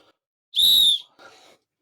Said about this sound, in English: Really good whistle. These are amazing, these whistles.